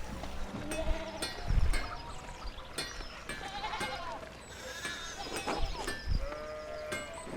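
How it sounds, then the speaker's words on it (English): Several sheep bleat repeatedly in the video game Pentiment, with overlapping calls at varied pitches over a faint rural ambience. "Sheep blocking that way, so I guess sheep blocking the way that you can't go"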